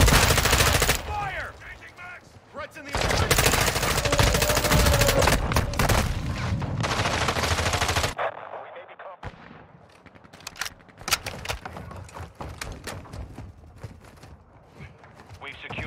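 Rapid automatic gunfire in a multiplayer shooter video game comes as dense, loud, sustained bursts, then thins into scattered individual shots, with voices talking over it.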